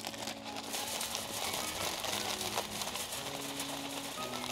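A bag of cherry wood smoking chips crinkles and rustles steadily throughout, a dense close-up plastic crackle with no talk.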